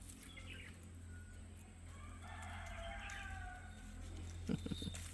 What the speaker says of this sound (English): You can hear the beautiful sound of birds in the background.